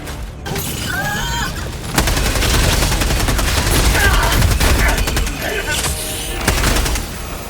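Gunfire in the video game Helldivers 2, dense and loud continuous shooting with rapid automatic bursts and heavy impacts layered over game sound effects, without a break.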